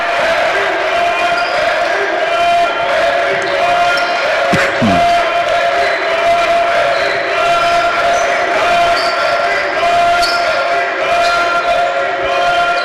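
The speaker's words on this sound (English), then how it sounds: "Mayers with a huge slam there gets the crowd up on their feet." Basketball game crowd cheering and roaring after a big slam dunk, a dense, steady wall of voices filling the arena with a sharp thud partway through.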